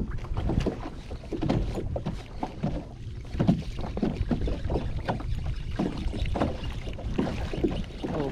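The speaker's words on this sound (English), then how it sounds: "I'm using trolling motor because it's shallow waters here" A kayak trolling motor runs in the shallow water of Flamingo in Florida's Everglades, making a steady churning wash with rhythmic water slaps and some wind noise, close to the microphone and without speech.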